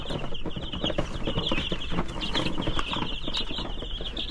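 Chickens and young chicks cluck and peep steadily inside a coop, a dense, close flock chorus with high chirps running throughout and no voices.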